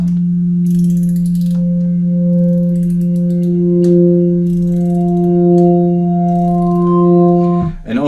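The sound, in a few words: Hammond organ tone with drawbars pulled out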